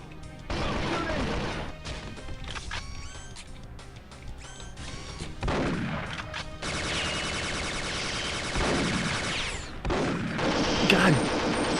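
Gunfire in a video game comes in rapid, irregular bursts of loud shots and crashes. The shots cluster and overlap across the whole stretch, with a voice occasionally heard among them.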